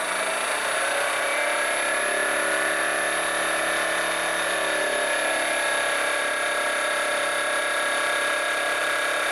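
A crankshaft inertia force testing rig spins up toward 2000 RPM, a loud, steady mechanical whine with strong tonal hum and a faint low rising sweep early on.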